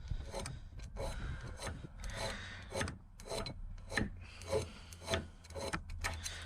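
A hand file rasps in repeated strokes against a rusty steel auger bit, each pass a close, gritty scrape with short pauses between, steady and alone.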